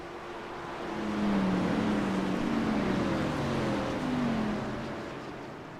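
Race cars in a racing video game at Road America drone past in a dense, rushing engine wash, a few wavering engine notes swelling up and then easing off, with no talk.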